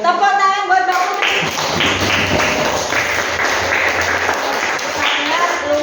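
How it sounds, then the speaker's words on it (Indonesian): A school audience claps for a student named Putri, a brisk burst of many hands with loud voices and music overlapping at the start before the clapping settles into a steady patter. "Tepuk tangan buat Mbak Putri."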